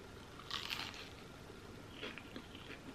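A tomato and mozzarella arancini from M&S is bitten, with two close crunchy bites about a second and a half apart followed by soft chewing, and no talking.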